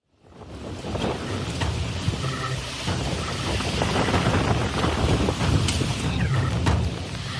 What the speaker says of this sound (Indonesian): Hujan deras disertai angin kencang Senin sore melanda kawasan tengah kota Sidoarjo